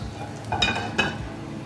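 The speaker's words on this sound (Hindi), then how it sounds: "ज़ीरे को मैं हल्का सा फ्राई कर लूँगी पहले ऑयल में" Whole white cumin seeds frying in half a cup of oil on a tawa, a steady close sizzle with two brief louder scrapes of a spoon stirring through it.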